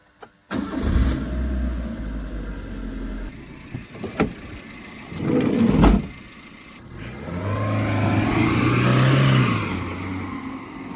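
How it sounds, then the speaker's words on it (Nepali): A car engine cranks and starts, idles roughly with a few knocks and clunks, then revs up loudly and holds a rising, steady roar near by. "ए ड्राइभर दाइ गाडी चाहिँ स्टार्ट गरिहाल त"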